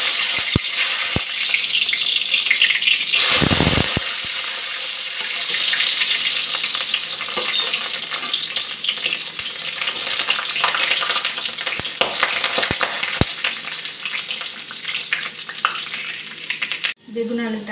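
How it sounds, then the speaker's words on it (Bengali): Garlic and dried red chillies fry in a pan with a steady, close sizzle that lasts throughout, broken by a few stirring clatters and a short burst of rushing tap water in the middle. "রসুন আর শুকনো লঙ্কাগুলো ভেজে নিচ্ছি।"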